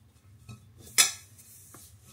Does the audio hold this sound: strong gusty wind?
no